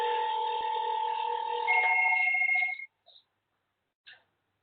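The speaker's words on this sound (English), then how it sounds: "I can see that my master phone is ringing" A desk phone on a SIP paging system rings in a steady electronic trill for nearly three seconds, then stops, followed by a couple of short faint electronic blips.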